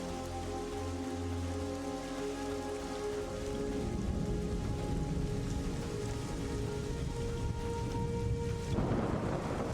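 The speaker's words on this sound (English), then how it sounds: "It's a very, very atmospheric thunder sound." Steady rain and thunder in a video game, a dense wash of rainfall with a low rolling rumble underneath, while a sustained tonal drone fades out near the end.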